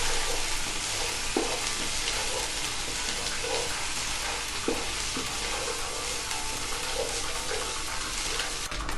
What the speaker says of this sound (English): Add bay leaves, black cardamom, cloves. Stir it for 1 minute.